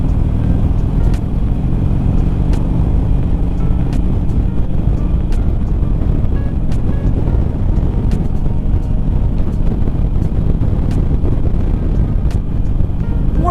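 Wind buffets the microphone while a motorcycle rides in South Dakota winter, a loud constant low roar of rushing air and engine drone with faint periodic ticks, no talking.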